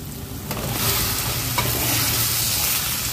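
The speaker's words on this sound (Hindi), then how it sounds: "पहले हम इसमें आलू डालेंगे" Potatoes stirred in a pan with turmeric and salt for an aloo palak sabzi, sizzling and frying steadily throughout, with scraping stir strokes close by and no talking.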